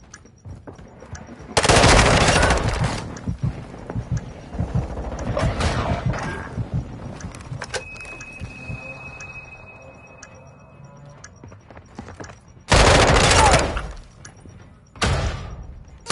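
Loud bursts of automatic gunfire in the video game Call of Duty Modern Warfare 2: three sharp volleys, one early and two near the end, with quieter game ambience and faint mechanical noise between them.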